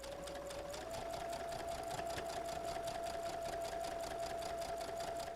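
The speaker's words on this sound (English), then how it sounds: "So let's start sewing our borders." A sewing machine stitches quilt borders at a quarter-inch seam in a fast, even, rhythmic clatter with a steady motor whine underneath. It runs continuously, quiet and close, with no talking.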